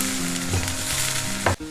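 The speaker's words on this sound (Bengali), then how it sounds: "রসুন পেস্ট আর আদা পেস্ট একটু ভাজা ভাজা করে নেব" Onion, garlic and ginger paste frying in a pan for samosa filling, a loud, dense sizzle held close throughout with a low steady hum beneath and a brief stir near the end, no talking.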